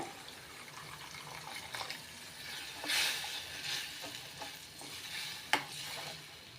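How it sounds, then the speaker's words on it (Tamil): A pan of buttermilk curry (mor kuzhambu) bubbles and sputters softly at the sides, with gentle stirring scrapes and one sharp clink, heard up close and fairly quiet. "பாருங்கள் இப்போ நம்ம சைடில் கொதிக்குது இல்லையா"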